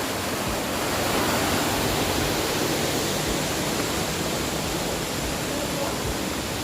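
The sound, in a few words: water spring flowing in Jatijajar cave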